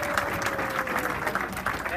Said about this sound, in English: I want to give a round of applause for all of our legacies